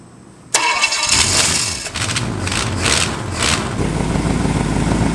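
A Pontiac Fiero drag car engine cranks and fires abruptly on ethanol, then settles into a loud, rough, close idle with rhythmic surges from the exhaust.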